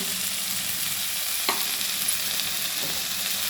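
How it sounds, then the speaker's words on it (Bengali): Mustard paste being stirred in a frying pan, a soft steady sizzle with scraping strokes of a spoon and a brief sharper clink near the middle, close and fairly quiet. "সর্ষে বাটা দিয়ে ভালো করে নেড়ে নেবো।"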